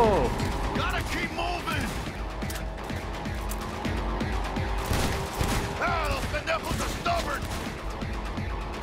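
Gunfire from a weapon in Cyberpunk 2077 comes in bursts of quick, clattering shots. Mechanical clicks and ratcheting sounds mix in, and a voice speaks over parts of it.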